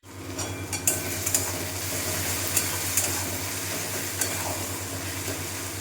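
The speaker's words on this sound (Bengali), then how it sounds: "এখন লাল লাল করে এটাকে ভেজে নেব।" Onion and ginger-garlic paste sizzle and fry steadily in a pan on a village kitchen stove, with a continuous hiss broken by a few sharp clinks of a spoon stirring, close up and with no talking.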